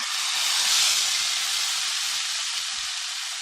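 Red chillies dropped into hot oil with golden fried garlic, a loud steady hiss of sizzling that holds evenly throughout, close and alone.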